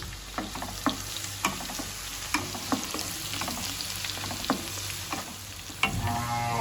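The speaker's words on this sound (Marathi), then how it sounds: "आता लसूण आणि मिरची त्यामुळे परतून घेऊ" Garlic and chopped green chillies sauté in a hot pan, a constant close sizzle punctuated by regular utensil knocks as they are stirred, with no voices.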